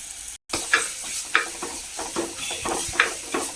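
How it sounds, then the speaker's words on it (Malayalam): Chili paste sautéing in hot oil for a Kerala fish curry, with a steady close sizzle and a spoon stirring and scraping the pan at intervals, heard alone. "കുറച്ച് നേരം ഒന്ന് നന്നായിട്ടൊന്ന് എണ്ണ തെളിയുന്ന വരെ ഒന്ന് വാട്ടി കൊടുക്കാം ഇളക്കി കൊടുക്കാം നന്നായിട്ട്"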